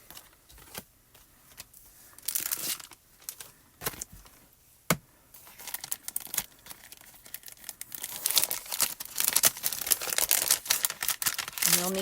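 Stamped paper pieces are cut out by hand, giving close crinkling, rustling and sharp snipping sounds in uneven bursts that grow busier toward the end.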